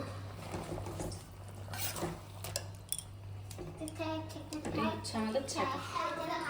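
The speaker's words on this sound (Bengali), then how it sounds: "শাকটা দিয়ে দিলাম এবারে নাড়াচাড়া দিব" Greens are stirred in a pan, with a metal utensil scraping and clinking against the cookware in irregular strokes beneath a steady hum and conversational talk.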